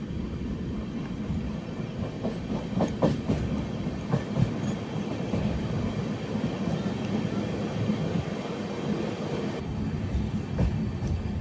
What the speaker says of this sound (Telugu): ఫాగీ వెదర్లో చిన్న టర్నింగ్ కొడుతున్న మన అమృత్ భారత్ ఎక్స్ప్రెస్